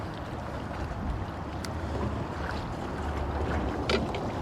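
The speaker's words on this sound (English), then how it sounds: "The wind picked up a little earlier than it was supposed to" Wind buffeting the microphone over choppy, rocky water on a small fishing boat, a continuous rough rumble with occasional slaps and knocks.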